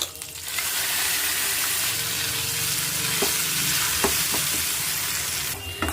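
Okra and tomato chutney fries in a kadai with a spoon of oil, mustard seeds, cumin and curry leaves, making a loud, continuous close-up sizzle with occasional stirring scrapes.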